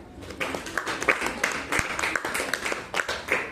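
A classroom of students claps for their class, a loose scattering of individual hand claps in an uneven rhythm, fairly close and moderate in volume, with some voices murmuring underneath.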